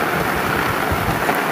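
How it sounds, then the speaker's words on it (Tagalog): Heavy rain pours down in Bicol, Philippines, in a dense, constant roar with a low rumbling undertone, loud and close, no voices. "sobrang lakas ng ulan"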